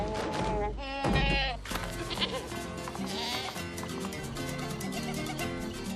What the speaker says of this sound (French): C'était une chèvre?